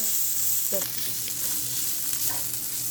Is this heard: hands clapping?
no